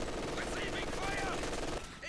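MG42 machine gun fire in a multiplayer tactical video game match, rapid continuous bursts rattling steadily with battle noise underneath, moderately distant, with a commentator talking over it.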